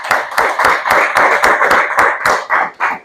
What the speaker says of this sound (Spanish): De un fuerte aplauso al Espíritu Santo.